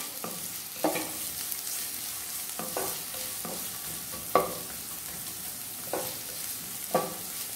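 Chopped onion frying in a pan for Mangalore-style prawn sukka, a steady close sizzle broken by several sharp stirring scrapes at irregular intervals, with no talking.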